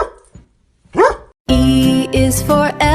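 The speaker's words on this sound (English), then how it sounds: "D is for dog, that takes a bow." A cartoon dog barks in a children's alphabet rhyme, a couple of short sharp yips followed by a bright musical jingle, close and clear with no talking.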